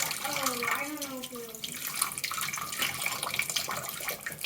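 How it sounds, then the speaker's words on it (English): Running tap water rinses sand off freshly cleaned Oregon razor clam meat at a sink, a steady close splash and trickle with a brief higher tonal whine near the start. "Rinse all the sand off."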